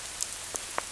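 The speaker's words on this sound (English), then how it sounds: "just with the sound of the rain on their roof" Heavy rain falls on a roof in a woodland setting on the Isle of Arran, a steady soft hiss with a few faint individual drips and ticks and no voices.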